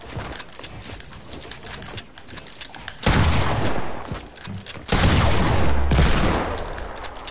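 Rapid gunfire in a shooting video game, two loud sustained bursts of shots following a stretch of quieter clatter and scattered pops, close and dense, with no talking.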